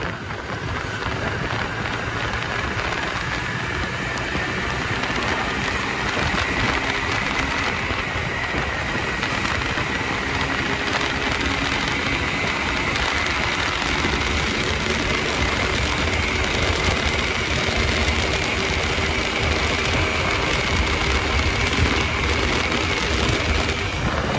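A motorbike engine hums steadily through a slow, relaxed ride on a road, a continuous close drone with wind rush and no talking.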